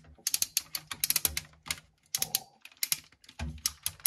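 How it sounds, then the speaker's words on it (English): Ratchet joints on a Transformers Revenge of the Fallen Jetfire toy click in rapid bursts of sharp, close ticks with short pauses, loud and alone. "They come out on amazing ratchets."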